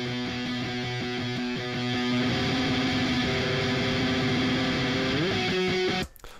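Metal guitar recorded direct and run through the Razor Rock distorted preset of Logic's amp designer, heavily saturated chugging power chords with a sliding bend near the end, loud and continuous before stopping abruptly.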